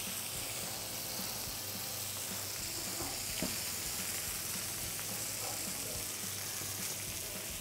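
Prawns searing in a hot pan give a steady, dense sizzle and hiss, continuous and even in level, with faint spatters and stirring clicks and no voices.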